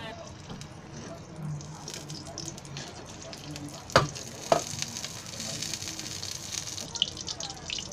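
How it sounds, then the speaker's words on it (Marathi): Oil hitting a hot pan for frying dried prawns on a gas stove, a soft steady sizzle with a couple of sharp clinks partway through, faint and close, with someone speaking over it. "आता मी गॅस वाढवते आणि त्याच्यामध्ये तेल ओतते."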